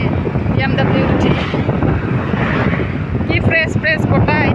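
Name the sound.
wind rushing past a moving car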